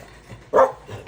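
A single short dog bark rings out over quiet background noise.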